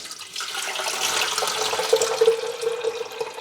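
Water pours from one electric kettle into a lower-power kettle in a steady, gurgling stream, with a faint rising tone as the vessel fills.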